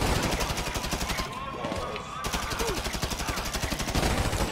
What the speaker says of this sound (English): Ow, I'm being shot from the right somewhere?